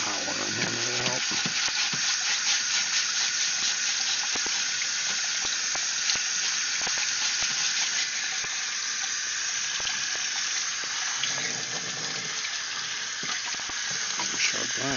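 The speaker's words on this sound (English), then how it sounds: "Some hot water in here may help." Hot water pours steadily into a container in a workshop setting, a continuous bright rushing splash that stays level and fairly close for the whole stretch, with a few faint clinks and knocks underneath.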